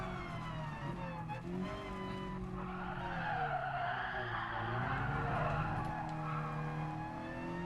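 Tires skid and squeal under hard braking on a Mazda Roadster in the Gran Turismo Sport racing game, a sustained screech wavering over the engine drone for several seconds, with no talk.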